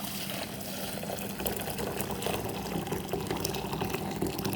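About a litre of water is poured into a pot to be boiled, a faint, continuous splashing trickle heard alone at low volume.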